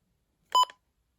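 A Midland WR120 weather alert radio gives a single short electronic button beep, clear and close against near silence.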